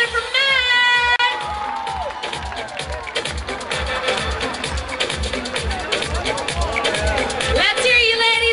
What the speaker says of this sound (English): Ladies, put your hands together for Matt.